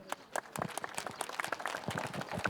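Applause from an outdoor rally crowd greeting a farmer speaker, fairly sparse and distinct claps from a modest group, quiet and uneven, with individual hand strikes audible.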